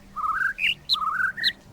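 A series of quick, bright bird chirps, rising and falling whistled notes in close succession, heard fairly clearly against faint background hiss.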